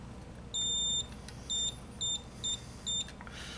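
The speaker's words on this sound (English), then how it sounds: "I have an ohms meter here that I have set on continuity." A thin electronic beep from an ohmmeter set on continuity, testing a sewing machine pedal, sounds five times in short bursts, the first longest, over quiet background hiss.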